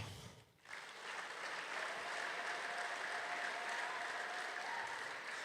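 A church congregation breaks into applause during a sermon: after a short dip, dense sustained clapping rises and fills the room evenly, steady and moderately loud, with no talk over it.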